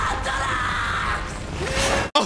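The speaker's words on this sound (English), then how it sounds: "Oh my god, the scream!" A long, loud, sustained scream from an anime episode carries unbroken for about two seconds, then cuts off sharply.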